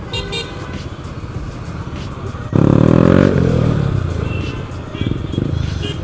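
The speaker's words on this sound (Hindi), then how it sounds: "इसका एग्जॉस्ट भाई नेक्स्ट लेवल है, बिना मजाक के बहुत बहुत ही बॉम आवाज है इसके एग्जॉस्ट" Yamaha R15 V4 motorcycle fitted with a loud aftermarket exhaust, a deep booming note that swells sharply midway as the bike revs past in road traffic, with other vehicles and voices around.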